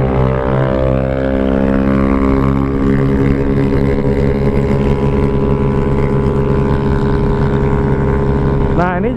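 A modified Yamaha Mio 155cc motorbike on a test run screams at high revs, its engine drone loud, constant and close with strong harmonic whine, swelling into a rising rev at the very end.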